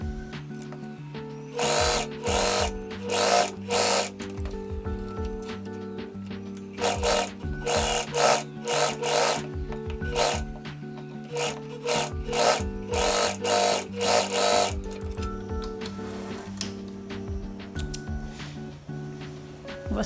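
A sewing machine stitches a double seam on a dress shirt in repeated short runs of rapid needle clatter, close and clear, separated by brief pauses and a low motor hum.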